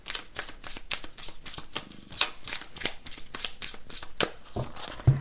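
A deck of tarot cards is shuffled close up in a rapid series of crisp riffling bursts and flicks that repeat steadily across the whole stretch, with no talk over them.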